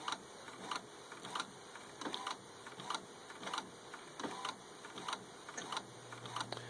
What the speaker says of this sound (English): That's the printer running, and it will spit out the photo here in a few seconds.